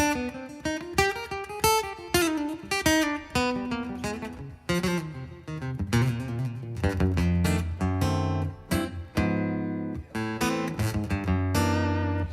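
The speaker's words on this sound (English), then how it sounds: "With it on, it sounds like this." Electric guitar played through an EQ pedal, a busy run of picked notes and chords with a bright, full tone, loud and close, no talking.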